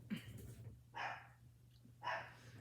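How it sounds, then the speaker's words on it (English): Dog barking indoors in a home, three faint, muffled barks spaced about a second apart over a low background hum. "I don't know why he's barking."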